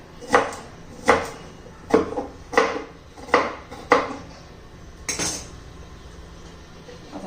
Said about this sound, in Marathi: आता टोमॅटो चिरून घ्यायचा. खूप मोठा मोठा नाही चिरायचा, बारीक चिरायचा आहे आपल्याला.